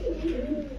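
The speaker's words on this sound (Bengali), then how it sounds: "মাত্র 1000 টাকায় প্রিন্স কামারগার, তাও নর কবুতর।" A male Prince pigeon gives a short, soft, close coo of a few low rolling notes, with no talking.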